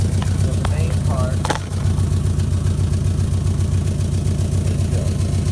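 A car engine idles with leaking exhaust pipes, giving a steady, close, continuous low rumble throughout with no gaps.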